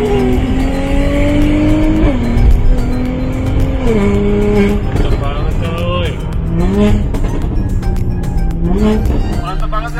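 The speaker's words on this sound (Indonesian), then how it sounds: "Suaranya gokil, bener-bener keluar nih suara 6 silinder dari Mercy" Mercedes-Benz C43 AMG with a tuned six-cylinder engine accelerating hard on an empty toll road, a loud rising engine roar climbing through several gear changes, heard close from inside the car.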